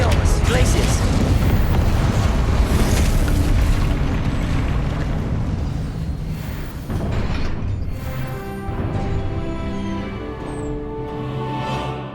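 Confringo spell explosions in the video game Hogwarts Legacy: loud, dense, rumbling blasts pile on each other almost without a break, then ease into a lighter, tonal ringing tail.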